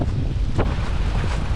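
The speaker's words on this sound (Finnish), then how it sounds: "Hirveet, siis ihan kauhea tuuli rupesi käymään täällä." A strong windstorm whips up dust outdoors and roars continuously against the microphone, with heavy low buffeting and gusty rushing throughout. No one talks.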